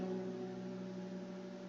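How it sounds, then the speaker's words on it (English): Steady low air conditioner hum with faint tonal bands, heard as ambient background in the visual novel game Doki Doki Literature Club Plus, constant and quiet with no other sounds. "The air conditioner seems louder today."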